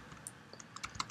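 Quick, light keystrokes on a computer keyboard tap out a short line of code in an irregular patter of soft clicks, close by and quiet, with no voice over them.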